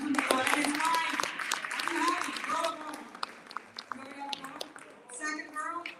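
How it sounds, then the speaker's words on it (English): Clapping breaks out for an award recipient at an annual awards ceremony, moderate and scattered beneath talking voices, including a child's, that carry on over and after it. "One more round of applause for Susan Flores."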